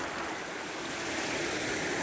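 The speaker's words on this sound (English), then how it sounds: "And look at the water's flowing through here" Fast water rushes through a stream along an unstable bank after rain. The hiss is steady and continuous, moderately close, with no talking.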